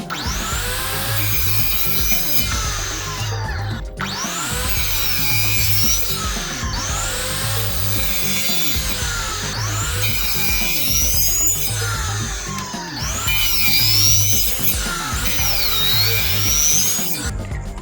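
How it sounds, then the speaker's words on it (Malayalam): Hand sawing of small pieces for a homemade foam cutter build, a loud, steady back-and-forth rasp running the whole time in repeated strokes, with short pauses between bursts and no talking. "അപ്പോൾ ഏകദേശം 1 ഇഞ്ച് വീതിയിലൊരു 4 പീസ് ഞാൻ കട്ട് ചെയ്തെടുത്തിട്ടുണ്ട്."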